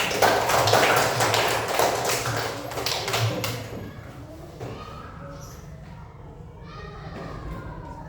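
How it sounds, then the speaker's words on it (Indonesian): A classroom group clapping hands together, a dense burst of applause in the opening seconds that fades out, leaving a quieter room with murmuring voices. "Tepuk tangan."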